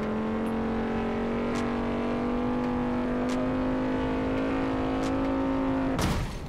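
Simulated car engine in BeamNG.drive held at a steady high-revving drone for about six seconds, then a sudden loud crack as the engine blows, followed by fading rattle.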